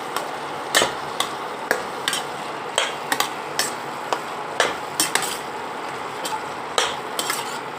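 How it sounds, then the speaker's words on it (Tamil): A spoon stirs ridge gourd kootu with ground coconut paste in a pan, making irregular metallic scrapes and taps against the metal over a soft steady sizzle, close up with no talking. "தேங்காய் போட்டாச்சுங்க. நல்லா கலரலாம்."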